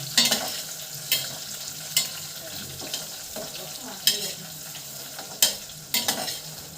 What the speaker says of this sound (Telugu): ఇప్పుడు ఒకసారి కలుపుకుంటున్నానండి.